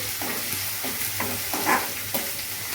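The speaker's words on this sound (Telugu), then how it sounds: "అల్లం వెల్లుల్లి పేస్ట్ కొంచెం బాగా వేగనివ్వాలి" Ginger garlic paste frying in a pan for a chicken biryani, a steady sizzle broken by a few rhythmic stirring scrapes, no one speaking.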